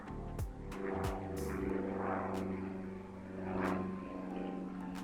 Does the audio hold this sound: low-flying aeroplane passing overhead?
yes